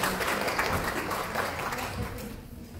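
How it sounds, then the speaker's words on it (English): A church congregation at a Sunday morning worship service claps briefly, a moderate burst of applause that thins and fades toward the end. "Give them a big round of applause"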